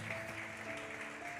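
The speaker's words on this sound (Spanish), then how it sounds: "Dale ese fuerte aplauso al Señor." A church congregation claps at a Wednesday evening service, a dense, steady wash of applause heard from within the hall for a brief moment.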